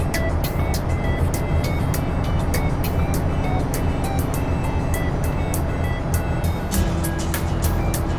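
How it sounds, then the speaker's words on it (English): A truck engine runs steadily with a constant low, loud rumble, overlaid by a regular light ticking, with no speech. "the sound of the engine"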